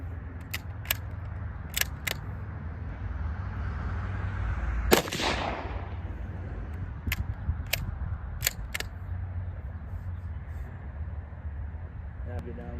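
Gunshots fired at targets, sharp cracks spaced irregularly, one loud close report among several fainter ones over a constant low rumble, with speech in the background.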